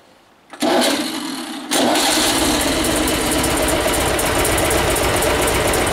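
An old Panhard WL1 car engine cranks with a sudden burst, stutters briefly, then catches and settles into a loud, steady running rumble close by.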